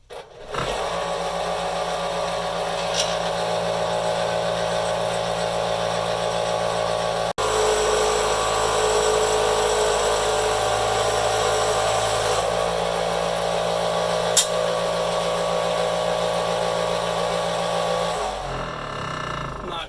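A power saw cuts through wood boards for a pantry build, a loud steady whine running for most of the stretch with a brief break partway through, then stopping near the end.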